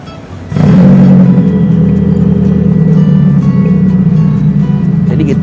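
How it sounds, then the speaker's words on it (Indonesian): A Mitsubishi Xpander with its exhaust relocated to the front through a custom hood starts up and settles into a loud, steady low idle rumble close by, continuing evenly for several seconds. "Jadi gitu, ini mobil udah nyala."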